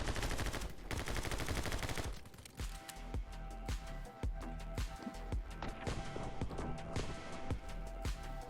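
Rapid gunfire from the action video game My Friend Pedro, dense rattling shots over a steady game soundtrack, with sharper single bangs popping at irregular intervals.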